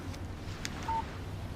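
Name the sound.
phone text message alert in video game Alan Wake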